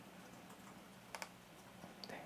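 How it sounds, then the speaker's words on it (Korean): A few soft, close keyboard clicks, two quick taps then a couple more, from typing text on a computer keyboard, quiet against a faint background hiss. "글은 이 정도로 타이핑을 하도록 하고"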